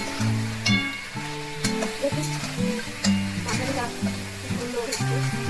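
Mutton sizzles and crackles in a hot pan while it is stirred, with continuous frying hiss close up and talk running over it throughout.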